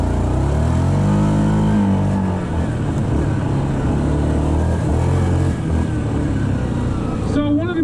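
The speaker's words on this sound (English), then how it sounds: "And first off, let's nail the throttle." A 2022 Yamaha Grizzly 700 ATV runs at full throttle on a trail, its single engine roaring loud and close as it climbs in pitch under hard acceleration and stays strong to the end.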